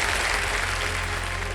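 Studio audience applause on the Hindi quiz show Kaun Banega Crorepati, a short, dense, steady burst of clapping with no voices over it.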